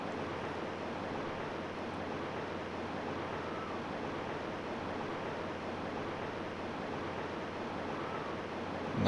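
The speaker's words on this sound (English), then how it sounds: "Nice melodious sounds, the rushing river." Rushing river ambience in the PS1 game Brave Fencer Musashi (1998), a dense steady roar of flowing water that is even and continuous with no talk.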